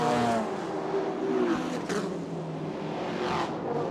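Super Car GTC race cars running on the Chonburi street circuit in Thailand: a moderately distant engine drone with rising revs and a car sweeping past, under a faint commentary voice.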